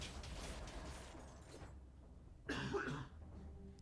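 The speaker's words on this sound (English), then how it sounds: "Give me 1 second to cough a lot" A person coughs hard a couple of times nearby, a harsh burst standing out against faint background noise.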